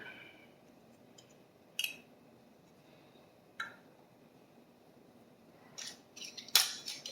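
Metal lids set onto glass canning jars while canning pineapple, a few sharp isolated metallic clicks and clinks in a quiet room, the last ones clustered closer together.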